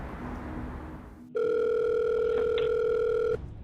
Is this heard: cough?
no